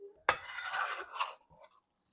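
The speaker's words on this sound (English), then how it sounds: "Now we will stir what we put in there in." Stir fry tossed with a utensil in a Yosukata wok: a sharp metallic clink followed by about a second of scraping and rustling, then a second brief scrape and faint taps.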